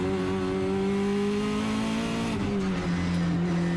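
A race car at the World Time Attack Challenge 2019 drives flat out with paddle shifts, a loud, close, sustained high-revving engine wail whose pitch drops through a downshift midway.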